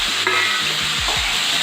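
Brinjal frying with spices in a pan for a spicy mixed vegetable curry, giving a steady close sizzle with stirring scrapes over it and no talk.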